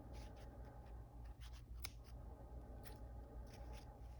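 Faint, quiet snips of scissors cutting thread after sewing on a button, several short crisp clicks scattered over a low background hum.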